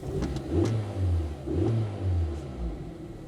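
A Nissan 100NX engine revs in several quick swells, rising and falling in a rough rhythm, close and loud with no talking, in a scrapyard setting.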